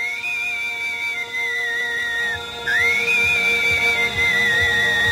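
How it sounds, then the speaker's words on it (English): A cartoon character whistles a sustained, wavering tone in a sci-fi animated series, holding a steady pitch that dips and slides mid-way and then resumes over faint background rumble and effects. "Keep whistling."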